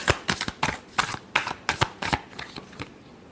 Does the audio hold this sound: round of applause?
no